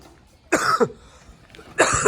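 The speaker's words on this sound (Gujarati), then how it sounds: "ઉધરસ ઉધરસ" Two sharp, harsh coughs about a second apart, close and loud, with quiet in between.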